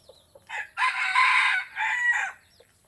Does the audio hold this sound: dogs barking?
no